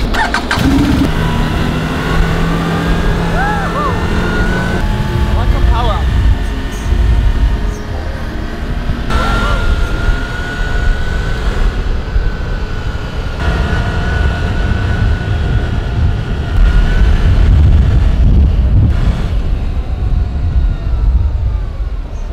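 Quad bike engine starting up and then driving off with three riders aboard, a loud rumbling motor rising and falling as it revs and moves, with a short squealing sound near the start.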